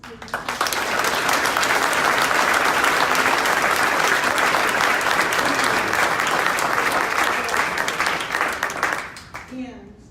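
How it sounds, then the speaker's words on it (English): A breakfast club audience bursts into sustained applause after a thank-you, dense steady clapping from many hands lasting several seconds before tapering off near the end, loud and close with no voices over it. "Applause."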